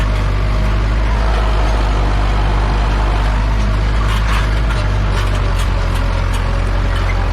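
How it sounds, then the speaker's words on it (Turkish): A Massey Ferguson 3105 tractor engine straining hard while ploughing a dry, cloddy chickpea field, a loud, steady, heavy diesel drone, close-up and continuous, with clattering on top. "Bak bak motoru bile zorluyor."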